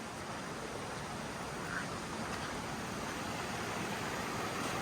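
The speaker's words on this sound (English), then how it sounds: "now we're back to just about where the water in the irrigation ditch gets diverted from Oak Creek" Oak Creek water rushing at the point where an Arizona irrigation ditch is diverted, a steady broadband wash of flowing water heard close and continuous, with no voices over it.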